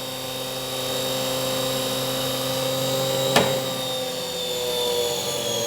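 A universal AC series motor spins at high speed near 3000 RPM, producing a steady loud whine with strong tonal hum, plus one sharp brief click partway through.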